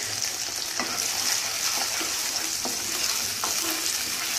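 Onion and tomato puree hits a hot pan and sizzles steadily for a colocasia leaf curry, a dense frying hiss with occasional soft stirring clinks, close and continuous, no talking.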